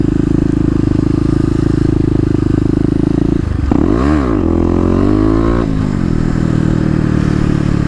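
Kawasaki KLX250 dirt bike engine revving hard in second gear during a wheelie, a loud steady drone that dips, then surges back up in a rising rev before settling into a continuous roar.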